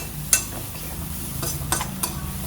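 Grated coconut dry-roasting in a pan for chammanthi podi, stirred with a spoon: a low rustling sizzle broken by a few sharp scrapes and taps against the pan.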